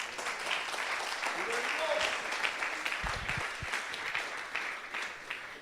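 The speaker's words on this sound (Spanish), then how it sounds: "Denle un aplauso al Rey." A church congregation breaks into sustained applause, a dense wash of many hands clapping at moderate distance that carries on steadily, with a few louder claps standing out near the middle.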